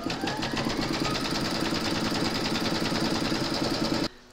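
An embroidery machine stitches a placement outline for batting on an in-the-hoop pouch, a fast, even, loud mechanical chatter that runs steadily alone and then stops abruptly near the end.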